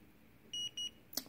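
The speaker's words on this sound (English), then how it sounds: "what we're doing ideally is listening for the beep" A Niton XL2 980 Plus handheld alloy analyzer scanning 316 stainless steel gives two short, clear, high-pitched beeps in quick succession over near silence, then a brief click.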